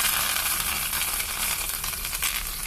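Curry leaves crackle and sizzle in hot oil in a tempering pan for tamarind-leaf dal, a dense, steady frying hiss that stays loud and continuous throughout with no speech over it.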